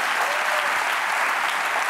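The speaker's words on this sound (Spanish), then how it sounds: "Un aplauso in memoriam para Borja Sumaza" Studio audience at the late-night talk show La Resistencia breaks into steady, dense applause, a loud continuous wash of many hands clapping with no voices on top.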